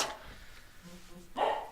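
Two dogs barking indoors, a short burst of sharp barks at the start and again near the end, moderately close, with a person talking between them.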